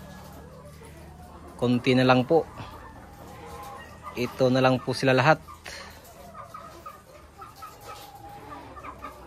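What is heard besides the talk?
chickens clucking on a layer farm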